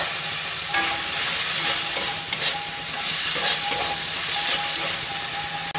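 Tomato goes into a pan of frying spices, setting off a loud, steady sizzle and hiss with repeated scraping stir strokes throughout, close up and with no talk.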